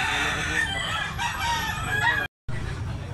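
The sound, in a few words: rooster crowing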